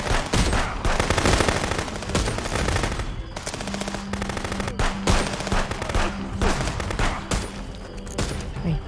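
Rapid bursts of automatic gunfire from the video game Contraband Police, dense and loud, with repeated volleys and occasional single shots throughout.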